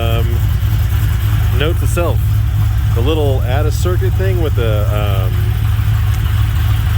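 A Ford 4.6 3V V8 idles steadily after an electric water pump install, a low continuous engine drone running through the whole stretch beneath someone talking in bursts.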